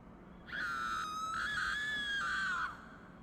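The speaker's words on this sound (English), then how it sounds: "we were suddenly jolted awake by the pleading screams of a woman" A woman screams, pleading, in one sustained, wavering high cry of about two seconds with a brief break near the start. It is moderately loud over a quiet background, with no talking.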